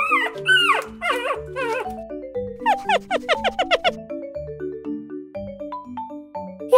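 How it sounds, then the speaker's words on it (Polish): A puppy whimpers and yips in a series of short, high, wavering cries that rise and fall, close by and alone, with a few sharper calls in between. "Szczeniak skomli."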